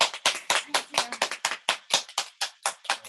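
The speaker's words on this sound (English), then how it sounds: "I gotta put my phone down so I can clap again." A single person clapping nearby after a performance, a dozen or so crisp, evenly spaced claps, with faint voices briefly audible underneath.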